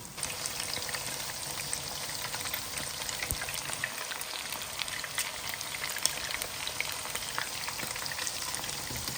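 Thin chicken slices for chilli chicken frying hard on high heat give off a steady, even sizzle that crackles without a break, fairly soft and close, with no voices.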